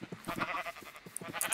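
Sheep in a blocky survival-building video game bleat in a quick run of short, moderately loud calls near a forest, the bleats repeating with brief gaps and no talking over them.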